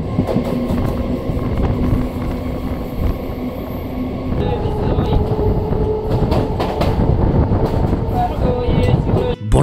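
A local train travelling between Bandel Junction and Khannan on the Bardhaman line, with a loud steady rumble, rhythmic rail clatter and rattling carriage noise heard from inside, continuous throughout.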